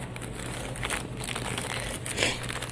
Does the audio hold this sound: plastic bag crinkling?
yes